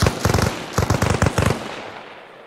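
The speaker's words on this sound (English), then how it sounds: "I'm just shooting out the windows, so, everything." Rifle fire shooting out windows in Arma Reforger, loud close bursts of several rapid cracking shots in quick groups, then a fading echoing tail.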